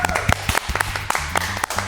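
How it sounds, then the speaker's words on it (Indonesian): Audience clapping at a talk on property investing in Australia, short sharp claps spread unevenly over two seconds, with voices mixed in under the applause. "Yuk kita tepuk tangan dulu buat Andri dan Yosi"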